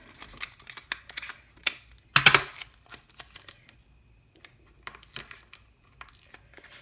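Sticky tape pulled off the roll and pressed onto a paper 2x2 Rubik's cube, close crinkles, rips and taps in scattered bursts with a louder tearing strip near the middle.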